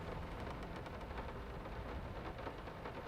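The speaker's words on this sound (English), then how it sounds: "I love the calm, soothing sounds of rain beating on my freaking ceiling." Steady rain drums on a ceiling in the horror game Layers of Fear, a dense, unbroken patter that holds at an even level throughout with no voices.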